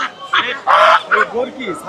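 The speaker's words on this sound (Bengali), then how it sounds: "তারপরে এই যে রাজহাঁস" Geese honk loudly and nearby at a Bangladeshi village market, several overlapping calls in a short noisy burst of honking.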